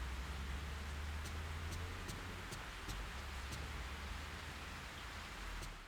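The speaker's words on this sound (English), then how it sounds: "It's raining again." Steady rain hiss in the video game Fatal Frame 3, a dense, even wash of patter that runs throughout with faint scattered drops and a low rumble underneath, with no voices.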